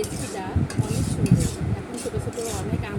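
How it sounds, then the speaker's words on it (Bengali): A spoon stirs mango, tomato, date and tamarind chutney with sugar and chilli powder in a pan, giving repeated scraping and clinking strokes against the metal at a steady rhythm, with a soft sizzle beneath. "চিনি দেওয়ার তিন থেকে চার মিনিট আমি এভাবে নাড়তে থাকবো"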